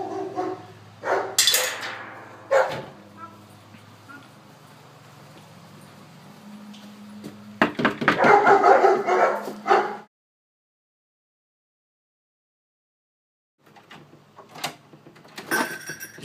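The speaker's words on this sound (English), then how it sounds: "the dog's barking, going crazy on the ottoman" Two German Shepherd dogs bark in sharp, scattered bursts indoors, some close and loud, with a short silent gap before more barks near the end.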